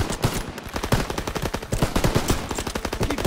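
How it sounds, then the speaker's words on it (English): Machine guns open fire in a World War II battle in Call of Duty: WWII, a dense rapid stream of loud overlapping shots continuing throughout. "MGs, open fire!"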